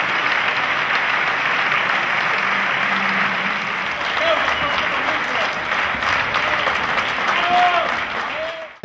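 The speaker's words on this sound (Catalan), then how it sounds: "Els assistents han aplaudit calorosament després de la projecció." An audience at the premiere screening of the film "Simonet, terror del francès" at the Jardí in Figueres claps warmly, a dense, sustained wash of applause lasting the whole stretch before tapering off at the very end.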